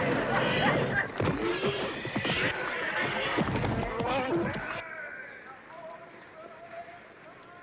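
Wild mustangs rounded up by government wranglers neigh and whinny while their hooves clip-clop in loud, busy bursts; the commotion thins into a quieter, more distant scuffle near the end.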